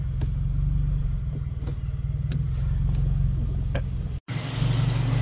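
A Subaru WRX with a CVT transmission idles steadily and runs alone, its engine a constant low rumble; a brief dropout breaks the sound near the end before it resumes.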